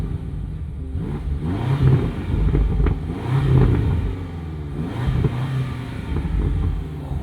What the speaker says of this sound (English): Oh, those burbles on the down rev.